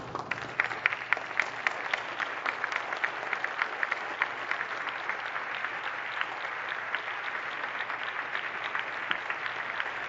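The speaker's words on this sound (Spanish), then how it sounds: "quien fue arropada por 1 minuto de aplausos" An audience gives a long round of applause for Marcela Lagarde y de los Ríos at a formal ceremony, steady dense clapping that continues evenly throughout, heard slightly distant and without speech.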